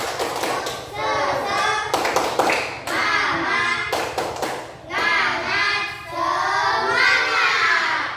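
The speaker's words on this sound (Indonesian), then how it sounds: "Nah, coba tepuk semangat dulu." A class of children in an Indonesian classroom does a teacher-led rhythmic spirit clap, with sharp bursts of hand claps and taps mixed with loud shouting and chanting voices throughout.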